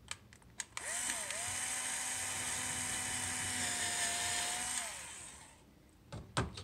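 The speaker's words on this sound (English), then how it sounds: "you drill into the exhaust hole about halfway down through the wood" A power drill bores into the exhaust hole of a wooden Wurlitzer on/off organ pneumatic, widening it to a 1/4-inch hole partway through the wood: a steady, loud whine lasting about four seconds, alone, with short clicks before and after.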